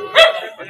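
A lively puppy, just delivered to a customer, gives a single short, close bark, followed by faint rustling.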